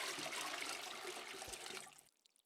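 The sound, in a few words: water poured over head to wet hair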